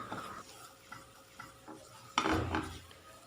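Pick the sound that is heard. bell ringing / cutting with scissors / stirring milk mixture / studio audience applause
stirring milk mixture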